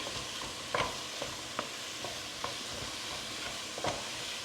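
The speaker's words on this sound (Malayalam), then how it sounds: "നല്ല പോലെ ഇളക്കി അങ്ങോട്ട് നമുക്ക് കൊടുക്കാം." Mushrooms coated in masala sautéed and stirred in a large pot for a Kerala mushroom stew, a soft sizzle with a few scraping stir strokes spaced across the quiet scene, no talking.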